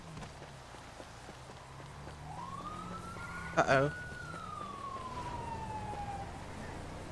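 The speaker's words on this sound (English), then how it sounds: "The ambulance." An ambulance siren in the GTA 5 video game sweeps up, holds, then slowly falls in one long wail over a low background rumble, with a brief spoken exclamation near the middle.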